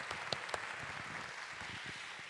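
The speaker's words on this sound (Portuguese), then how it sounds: "Também acho que merece palmas." Faint, distant applause from an audience, a soft steady clatter of clapping with a few sharper claps near the start.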